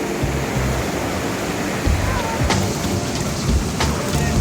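Christie Falls, a New Zealand waterfall of turquoise glacial water, roars in a steady broadband rush heard up close, with a few brief knocks and handling sounds over the constant flow.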